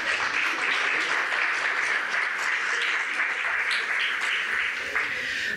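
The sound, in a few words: audience applause at assembly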